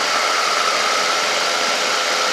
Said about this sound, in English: It's got the 100 ULS Rotax engine on it.